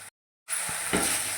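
Bitter gourd stir-frying in a pan, a steady broadband sizzle interrupted by a brief silent gap, then resuming with soft scraping strokes as the pieces are stirred; no talking.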